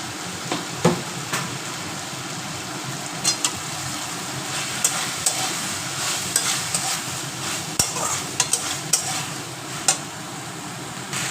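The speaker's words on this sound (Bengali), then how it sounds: "শাকটাও ভাজা হয়ে এসেছে" Spinach sizzles as it fries in a pan for a Bengali prawn and spinach ghonto, with a steady close crackle and regular sharp scrapes and knocks from stirring, no voices.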